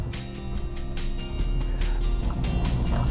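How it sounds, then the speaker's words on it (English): A Kia Rio GT Line's 1-litre engine restarting through its stop-start system in slow city driving. Light ticking comes first, then a low engine rumble swells in and settles into a steady idle. "So the second I lift my foot off the brake pedal, the engine starts up like this."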